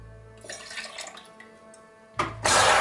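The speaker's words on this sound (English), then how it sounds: "So we'll pour 2 ounces of our pineapple juice," Pineapple juice pours into a metal cocktail shaker tin for a leaf-themed fizz, a steady splashing trickle that ends in a louder, brighter rush near the close.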